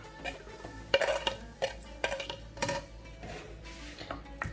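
Lamb mince being mixed with ginger, green chillies and spices in a bowl, with intermittent clinks and knocks of a utensil against the dish, close and fairly quiet.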